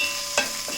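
Two chopped onions sauteing in a pan while a curry is being cooked, a soft steady sizzle with a brief stirring scrape, close and fairly quiet, no talking.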